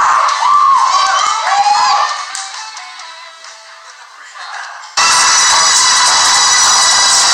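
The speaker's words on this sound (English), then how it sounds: "Oh, this is the crowd." Arena crowd at a championship wrestling event, roaring and cheering loudly; the noise fades under music, then bursts back in at full, dense volume near the end.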